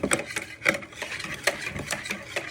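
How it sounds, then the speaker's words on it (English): Red velvet cake batter being whisked by hand in a bowl, a quick series of close, rhythmic scraping taps of the whisk against the bowl, brief and alone without talk. "with your whisk, you want to start whisking all that in"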